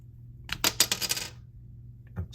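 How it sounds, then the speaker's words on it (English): A small flathead screwdriver pries the top metal piece off a Mazda CX-5 key fob. A cluster of sharp, close metallic clicks and scrapes lasts about a second, followed by one faint tick. "What we want to do is pry this top metal piece off right here."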